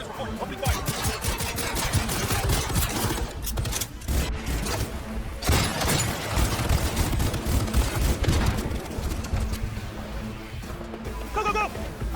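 Gunfire in the video game Cyberpunk 2077 rattles in dense, continuous bursts of automatic fire and heavy shots, loud and close, with shouted voices mixed into the chaos.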